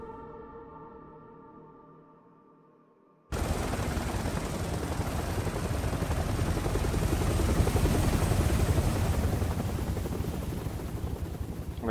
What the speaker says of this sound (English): That was a chopper that took me and Ethan.